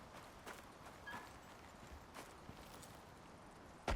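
A horse in the survival game Icarus, heard as a few faint, sparse hoof thuds spread across a quiet stretch, with one slightly louder knock right at the end.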